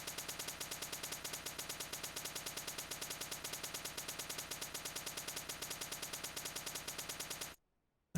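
Rapid automatic gunfire in a shooter game prototype, a fast even stream of synthetic shots repeating for about seven seconds before cutting to silence.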